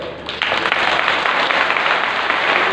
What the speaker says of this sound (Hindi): ताली इस बात को बजा रहे हैं